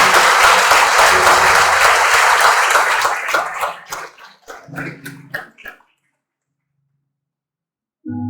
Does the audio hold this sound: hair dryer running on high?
no